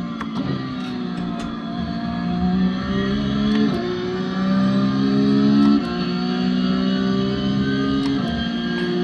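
Porsche GT4 lapping the Nürburgring combined circuit on cold tyres, engine heard from inside the car rising steadily in pitch through each gear and dropping sharply at three shifts, loud and continuous.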